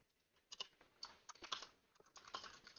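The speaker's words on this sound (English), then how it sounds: "I'm just typing out this stuff right now" Typing on a computer keyboard during a Dungeons of Drakkenheim tabletop game session: a quiet, irregular patter of key clicks in small bursts, alone with no talk.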